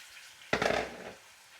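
Marinated chicken for a desi curry drops into a hot frying pan with a sudden sizzling burst that swells briefly and then settles into a quieter fry, heard close and alone.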